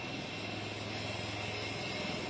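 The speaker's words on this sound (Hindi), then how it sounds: "हेलीकॉप्टर जो है वो शुरू हो चुका है, अब से कुछ ही देर में उड़ान भरेगा" Indian Air Force Light Combat Helicopter with its engine running at an airbase in Jodhpur, a steady loud broadband roar with a constant low hum, continuous throughout and no voices.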